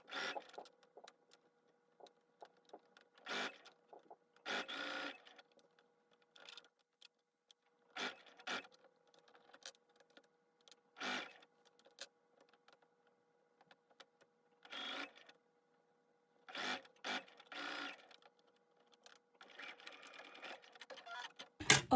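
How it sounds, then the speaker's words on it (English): A home sewing machine stitches down the front panel of a floral knit maxi dress, running in short separate bursts of fast whirring with quiet pauses between them. "I'm gonna use my sewing machine to sew down the front panel"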